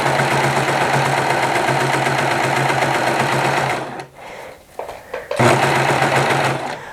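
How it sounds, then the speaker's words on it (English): A serger sewing machine runs steadily as it stitches fabric, a loud, close, rapid mechanical whir that breaks off briefly near the end before resuming. "And now we're going to start serging it."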